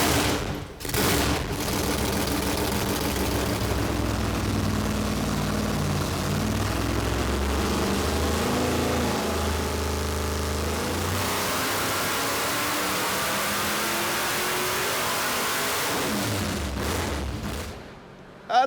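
The Blasphemi car engine roars steadily on a hub dyno in a long, loud full-throttle pull, its pitch climbing toward about 7,000 RPM before it drops off sharply at the end.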